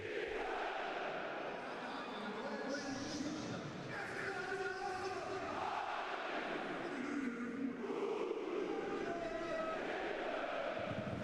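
Football supporters at a Hansa Rostock home match against 1860 München chant a player's name, a dense, sustained roar of voices filling the stadium throughout, with no clear pauses.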